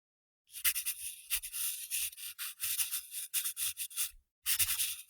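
Pencil eraser rubbed briskly across a large canvas, a run of short scratchy strokes in quick succession with a brief pause near the end, close and fairly quiet with no talking.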